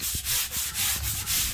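Crayon marks being scrubbed off a wall by hand make a rhythmic back-and-forth rubbing, about six quick close strokes with no talking.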